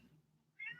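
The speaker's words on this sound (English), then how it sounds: "that's my cat." A pet cat named Izzy gives one short, faint meow at the end of a brief quiet moment.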